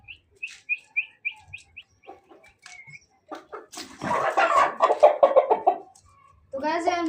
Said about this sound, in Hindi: मुर्गे को मैंने पकड़ लिया